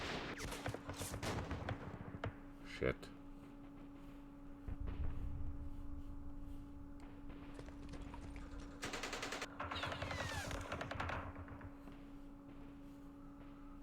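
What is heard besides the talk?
gunfire in video game Campaign Series Vietnam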